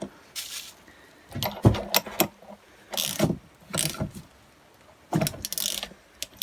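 A socket wrench ratchets on a nut of a 1963 Lambretta LI125 Series 3 scooter engine, giving several short, close bursts of quick mechanical clicking separated by pauses.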